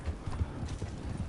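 A horse gallops in the video game Red Dead Online, its hooves making a quick, rhythmic clip-clop that stays soft and steady for a moment.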